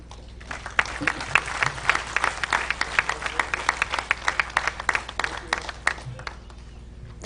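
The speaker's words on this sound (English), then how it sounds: "I truly did appreciate the applause that I heard so loudly for the first time in a long time right now" An audience at an IRSE India ceremony applauds steadily and loudly, dense overlapping claps running throughout without pause and with no voices over them.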